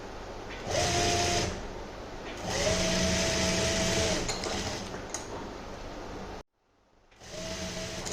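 A sewing machine stitches a pintuck neck design in loud, steady bursts of whirring, with short pauses between runs and a brief silent gap near the end.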